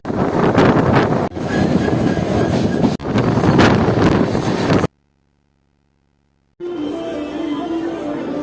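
The Avadh Assam Express rolls along on its long run near Barsoi, a loud continuous rumble with wind buffeting, briefly cut to silence before the roar resumes.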